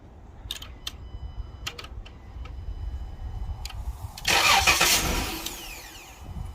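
A Dodge Grand Caravan engine cranks, briefly sputters into a rough burst of running and then dies, loud and close after a few seconds of quiet clicks and hum.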